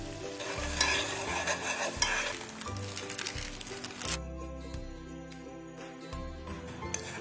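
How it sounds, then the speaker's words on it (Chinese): Diced onions and tomato are stir-fried in a pan over lowered heat, a soft sizzle with rhythmic scraping and clattering stirs up close, the frying hiss thinning out partway through. "稍微拌炒，让洋葱的香味出来"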